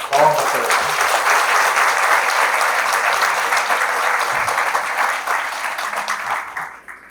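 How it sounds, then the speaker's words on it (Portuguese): A lecture audience at a spiritist talk breaks into loud, sustained clapping, a dense round of applause that holds steady and then fades out, with a brief voice at the very start. "Palmas para ele."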